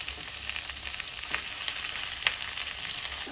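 Curry leaves and green chillies frying in hot oil for capsicum masala, giving a steady soft sizzle with a few sharper crackles and pops, no voices.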